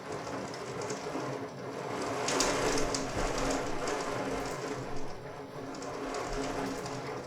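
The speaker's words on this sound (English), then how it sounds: "the rain is going extra hard" Heavy rain pouring down outside, a steady dense hiss that stays faint and distant, rising slightly in intensity midway through with no voices.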